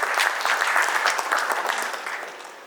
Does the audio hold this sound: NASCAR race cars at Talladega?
no